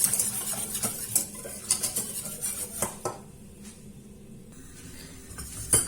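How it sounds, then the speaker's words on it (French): A utensil stirs a mixture in a pan over low heat for a Christmas log dessert, with repeated scraping and light clinks against the pan in an irregular rhythm, close by. "Je vais continuer à mélanger sur feu d'eau jusqu'à ce que ça commence un petit peu à épaissir"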